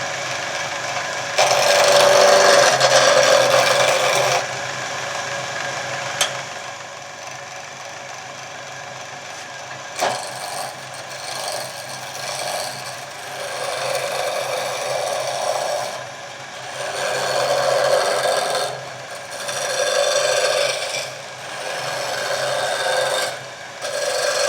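Scrap hardwood blank for a file handle being roughed out on a lathe, giving a steady rasping, scraping wood-cutting noise that swells and fades in bursts, fairly loud and continuous, with no talking.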